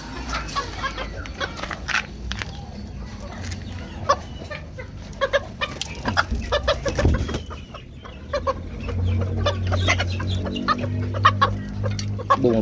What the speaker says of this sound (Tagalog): Bumaba yung hen. Pero limlim na yan.